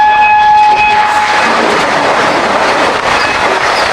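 Paharia Express passenger train running on rails at speed, a loud, close rumble with rhythmic clatter and a brief horn tone at the start.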